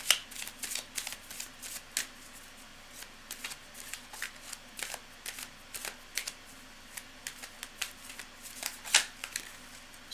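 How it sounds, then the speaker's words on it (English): Tarot cards are shuffled by hand in a quick mini shuffle, giving a rapid series of crisp riffling snaps and flutters, close and fairly quiet, with no talk. "I'm just going to do one last second little mini shuffle"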